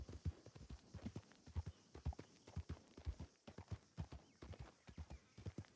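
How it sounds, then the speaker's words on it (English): A horse's hoofbeats clip-clop at a walking rhythm in a video game, fairly quiet and even, with a faint ambient background and no talking. "I prefer to take the horse"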